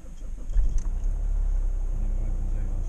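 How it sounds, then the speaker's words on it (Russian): A Chrysler CRD engine cranks briefly, catches with a loud thump and settles into a steady, close idle rumble, while someone speaks over it. "Вот я, видите, сейчас заведу, если аккумулятор не сел"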